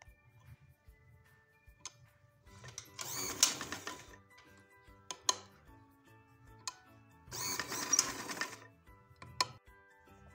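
A domestic sewing machine stitches elastic onto a pair of capri pyjamas in two short, close bursts of fast whirring with a gap between them. A faint low hum and occasional small clicks fill the quieter stretches.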